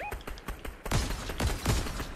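Rapid bursts of gunfire from a Fortnite match, several sharp shots and short volleys in quick succession, loud and close, with game ambience between them.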